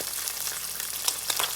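An egg fries in a pan with a steady, close, hissing sizzle, dotted with a few sharp pops and crackles, no voices over it.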